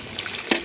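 Water trickles briefly into a pan of cooking chicken as a soft, close pour with a small splash near the end.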